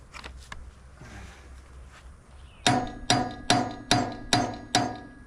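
On a 1984 Kubota B6200 tractor, a hammer taps the dynamo six times in an even rhythm, each strike a sharp, close metallic knock, after a quieter stretch of faint shuffling.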